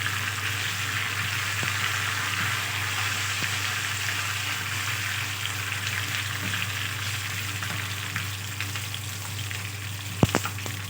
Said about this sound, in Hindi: अब इसको मैंने फ्राई करने के लिए रखा है तड़का।